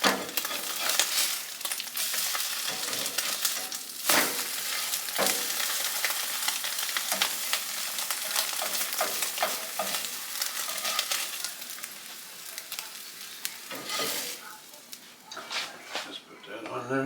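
Biscuits fry in butter in a pan on a stovetop with a continuous close sizzle, broken by brief scrapes as they are turned, while a person talks over it.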